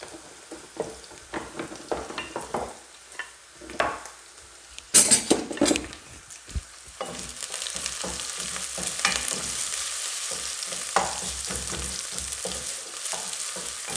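Onions hiss and sizzle in hot oil in two pans, starting with scattered stirring and clatter, then a steady, close frying crackle fills the second half.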